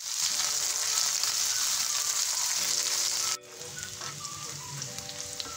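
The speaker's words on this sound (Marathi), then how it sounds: "आपल्याला फक्त फ्राय करून घ्यायचं आहे थोडंसं." Capsicum and onion fry in a pan for chilli chana, giving a steady close sizzle and hiss that drops to a quieter crackle partway through.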